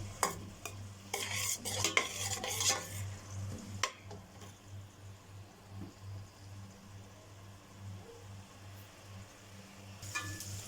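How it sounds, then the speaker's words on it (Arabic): Chopped onion fries in a pan as rice for a grilled-fish meal is prepared, with busy stirring and utensil scrapes early on, then a quieter continuous sizzle and a final burst of clatter. "معانا بصلة متقطعة هنحمرها"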